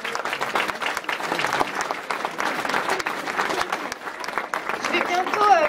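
An audience applauds steadily at a 2013 Christmas event for the Béaba Autisme association, with dense sustained clapping that swells near the end, and voices are heard faintly among the applause.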